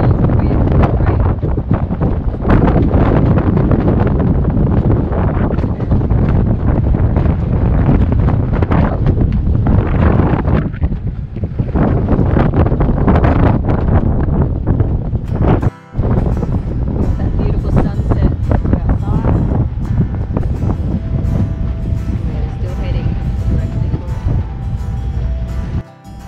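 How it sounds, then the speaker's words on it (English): Strong gusting wind roars across the microphone aboard a sailboat during squalls of wind and rain, a loud continuous buffeting that drowns most other sound, with a brief dropout partway through. "it's getting quite windy"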